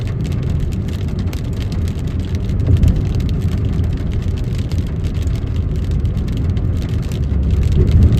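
Steady low rumble of a car moving through rain on a morning commute in Delhi, with a constant wash of road and rain noise and no talking.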